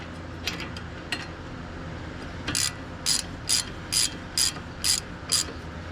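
A ratcheting wrench tightening bolts during a front brake and rotor job on a 2014 Scion xB clicks in short bursts, a few sparse clicks at first, then six or seven quick, evenly spaced ratchet runs close by.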